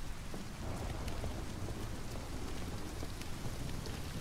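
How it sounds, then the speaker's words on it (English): Rain splashing in the video game Detroit Become Human, a steady, dense hiss of falling rain with scattered droplet ticks, continuous and fairly even. "Like the splash of the raindrops."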